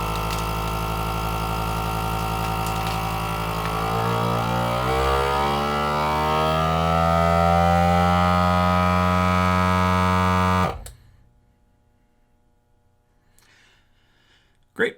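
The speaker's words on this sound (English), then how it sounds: "we're going to hit vac and seal" A vacuum sealer pumps air out of a bag holding a steak, a loud, close mechanical hum whose pitch slowly rises and strains for about ten seconds before stopping with a click, followed by near silence and a brief final clack.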